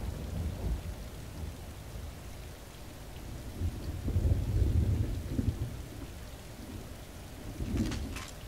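Thunder and steady rain in the video game Trouble in Terrorist Town, a continuous downpour with deep rumbling swells building around the middle and again near the end, playing alone without talk.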